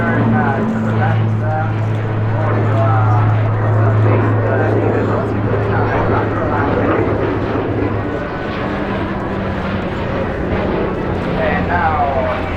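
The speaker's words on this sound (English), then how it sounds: "Now the aircraft is approaching us, pulling up for the maneuver just nice coordinated turn to the left" An Alenia C-27J Spartan military transport aircraft flying past during an airshow display, a loud continuous propeller drone and engine roar under steady commentator talk.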